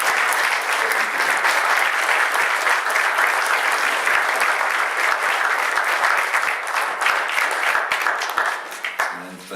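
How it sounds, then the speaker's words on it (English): An audience in church applauds a choir, a loud, dense burst of clapping that holds steady for several seconds, then thins and tails off into scattered claps. "How about one round of applause now?"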